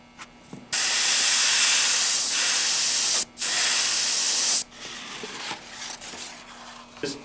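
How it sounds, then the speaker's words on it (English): Spray painting the bevels of a metal piece through a stencil: a loud, steady aerosol hiss in two long bursts with a brief pause between, then quieter handling clicks and taps. "when I'm spraying my bevels"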